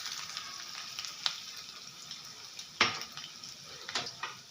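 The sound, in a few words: cumin and chopped ginger frying in a pan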